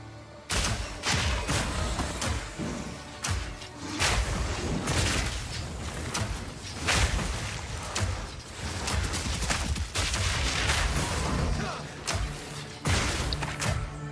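Grenade explosions from a Mercenary build in the video game Path of Exile 2, crowding into a dense, loud barrage of overlapping blasts and thuds that keeps going for the whole stretch with no pauses.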